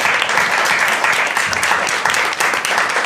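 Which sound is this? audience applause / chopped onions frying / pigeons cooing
audience applause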